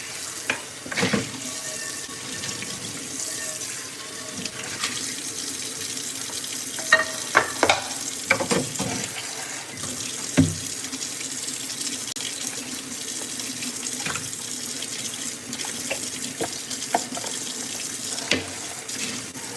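Hot water pours steadily from a kitchen tap while a simple pasta dinner is made, a continuous close splashing hiss with a few small knocks and clinks scattered through it.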